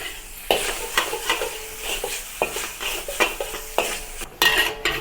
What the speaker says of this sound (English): Halfway through, add the shrimp and continue to stir fry until both are fully cooked.